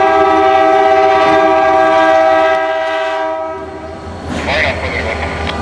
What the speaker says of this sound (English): That's a rather different horn.